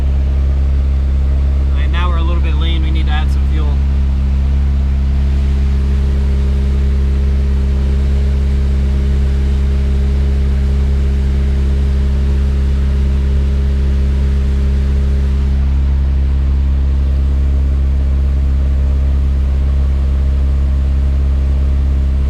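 An F20-swapped Acura Integra engine held at 2,000 rpm on a dyno, a loud, steady low drone with a constant hum that runs unbroken throughout, with a brief higher chirp near the start.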